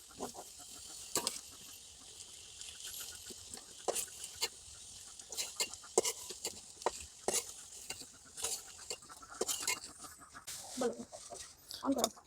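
Potatoes fry in a pan over a clay village stove, a faint steady sizzle under frequent sharp scraping and stirring clatters, with soft talking in the background.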